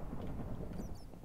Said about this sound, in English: And the thunder.